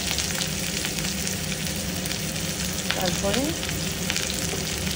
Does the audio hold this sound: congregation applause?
no